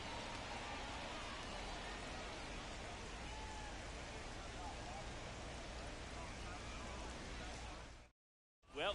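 Steady rain hisses as a broad, even wash of noise in MLB The Show 24 during a Rockies versus Rays game, constant and faint, cutting out abruptly near the end.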